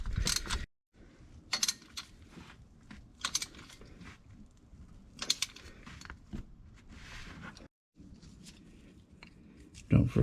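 Ratcheting clicks of a 16 mm socket tightening alternator pulley bolts on a 2003 Volkswagen Golf MK4 TDI, close rapid bursts of clicking separated by brief pauses, with a voice speaking in between.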